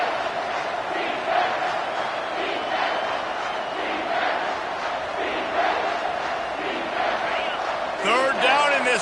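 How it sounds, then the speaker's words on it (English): Home crowd at an American football game on third down, a sustained loud roar of yelling and cheering in a stadium, with a commentator's voice heard over the crowd noise. "Third down, and this crowd is tearing the lid off this place."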